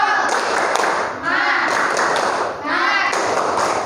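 Children clap a rhythmic classroom spirit cheer (tepuk semangat), bursts of loud group clapping close by, separated by short pauses, with young voices mixed in.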